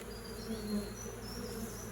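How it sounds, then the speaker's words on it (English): A dense mass of honey bees hums around a hive, a continuous close buzzing drone with a brief louder pass as one bee flies near. "it looks to me like there's millions of bees now"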